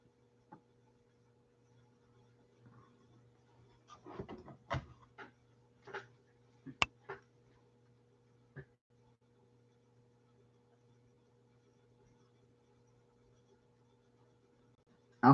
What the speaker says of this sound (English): let me shuffle some cards for you, Maurice.